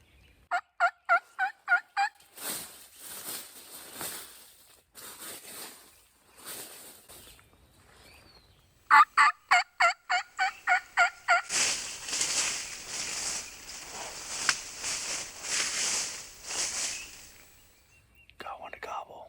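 Wild turkey toms gobbling on a Georgia spring morning, several rapid bursts of gobbles, some distant and some closer, with quiet whispered talk between calls.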